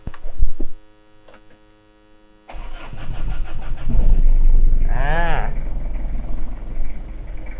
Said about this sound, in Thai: เดี๋ยวสตาร์ทให้ฟังเสียงเครื่องยนต์ด้วย